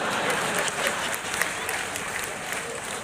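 A poetry gathering audience in a Bokaro club applauds with dense, even clapping that holds steady throughout at moderate volume, with no voice standing out.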